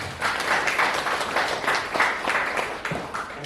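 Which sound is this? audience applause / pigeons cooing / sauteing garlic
audience applause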